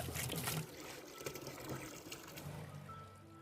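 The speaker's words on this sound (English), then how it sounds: "Let's fill the pond up with water again." Water pouring into an old fridge converted into a fish pond, a soft continuous gushing and trickling stream, quiet and steady.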